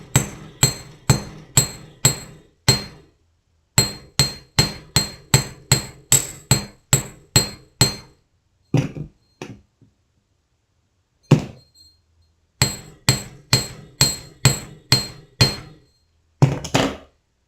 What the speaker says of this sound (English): I'm going to hammer a little bit more.